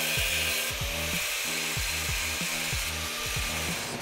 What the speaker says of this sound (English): Start cutting off the shock mounts on the bottom and then we can relocate for the new ones.